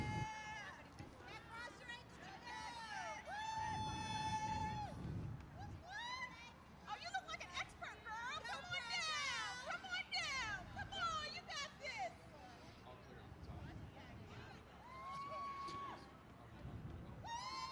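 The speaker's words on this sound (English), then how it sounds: "We can see and hear some of the people in the crowd cheering them on." A crowd at a Special Olympics Delaware rappelling event cheers on the rappellers with scattered shouts and whoops, children's voices and babble, moderately distant, interleaved with talk.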